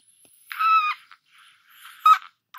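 A teenage boy imitates a honking call with his voice, giving a close nasal honk about half a second long, then a shorter second honk after a quiet pause.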